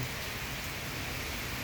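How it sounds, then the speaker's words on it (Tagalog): Light drizzle falls on a cloudy day, a steady, even hiss of fine rain with no distinct drops or thunder and no voices. "maulap at umaambon-ambon pa rin."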